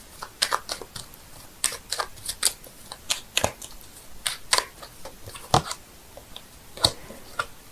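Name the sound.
shuffling tarot cards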